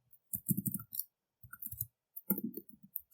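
Typing on a computer keyboard to enter a web address, heard as short clusters of crisp, close key clicks with brief pauses between them and no other sound.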